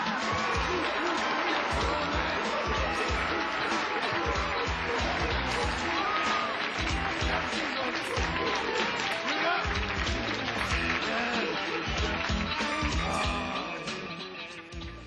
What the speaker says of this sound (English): give a big round of applause to Mr. Roland Big